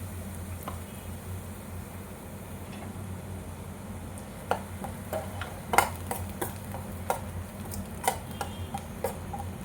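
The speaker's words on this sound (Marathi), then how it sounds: "आपण कढईत तूप घातलंय आणि त्यात हा जो ब्रेड क्रम तयार केलाय" Bread crumbs made from bread-slice edges roast in ghee in a kadai. Faint ticking and scraping taps from stirring sit over a low background hum, growing a little busier toward the end.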